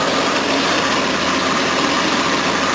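A Jaguar car engine idles steadily after a drive plate repair, a continuous even hum with no clattering, close and alone for a few seconds.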